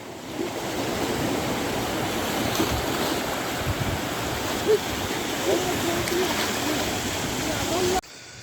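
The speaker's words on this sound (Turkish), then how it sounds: "Deniz kabarmış böyle. Çok net değildi aşağısı ama dalgaların yukarı çıkartıp atması güzel." Rough sea with swelling waves surging and crashing, heard outdoors on a coastal nature walk as a steady, broad roar of surf with wind, continuous and fairly loud until it cuts off abruptly near the end.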